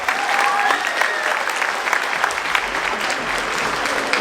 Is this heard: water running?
no